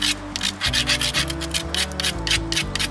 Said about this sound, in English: let's grind first because that platform's pretty weak